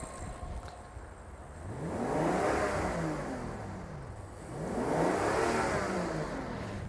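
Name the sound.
Rolls-Royce Phantom engine revving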